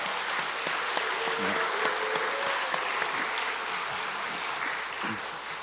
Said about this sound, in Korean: 우리 그분들 향해 뜨거운 박수와 함성으로 한번 환영할까요?